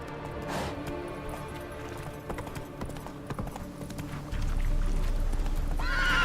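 Roach the horse in The Witcher 3 galloping with a rapid clip-clop rhythm, a loud neigh early on, then game ambience that swells louder near the end.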